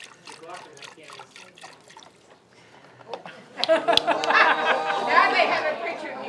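Chicken stock pours into a pan with a steady liquid splash and sizzle after a brief quiet stretch, while people chat nearby.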